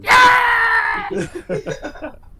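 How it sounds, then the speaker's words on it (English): A Yoda screaming sound clip plays, a loud, high, strained scream lasting about a second, followed by a run of short choppy laughing or sputtering bursts. "we've fallen in love with hearing Yoda scream"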